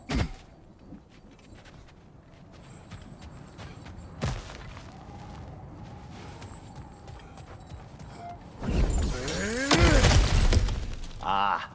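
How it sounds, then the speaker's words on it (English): Objects smash and shatter in God of War Ragnarok, with a sharp crack early on, then a loud burst of breaking and crashing debris near the end over ongoing game ambience. "Back to smashing through things for fun and profit."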